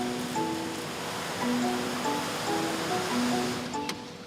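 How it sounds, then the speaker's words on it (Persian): Atlantic Ocean waves washing in a steady, continuous surf roar, with faint tonal music-like lines drifting over the noise and no speech. "We love the Atlantic Ocean because it's a fast-moving ocean."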